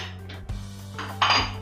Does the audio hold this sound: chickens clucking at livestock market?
no